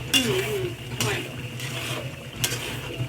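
A spoon stirs mango pickle cooking in a pan at a home kitchen, giving a few scraping strokes against the metal pan under faint background noise.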